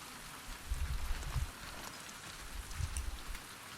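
Rain falls steadily in the video game The Last of Us Part 2, a dense hiss of drops with a few soft low rumbles swelling underneath, with no talk over it.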